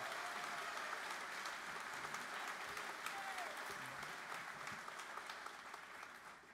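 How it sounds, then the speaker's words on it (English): At a 2023 high school graduation ceremony, a large crowd applauds in a soft, distant, sustained rush of clapping that gradually tapers, with faint voices mixed in underneath. "Let's give them a round of applause."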